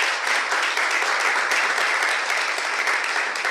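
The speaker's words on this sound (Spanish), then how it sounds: "Un aplauso para nuestra amiga Iris." Steady, dense applause from an audience at a Latin American event on drought-affected indigenous territories in La Guajira, Colombia, running evenly throughout without a break.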